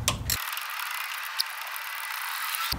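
Brief hand-tool ratcheting on an alternator bracket bolt of a first-generation Toyota Tacoma, a few quick close clicks at the start and end with a steady hiss-like bed between.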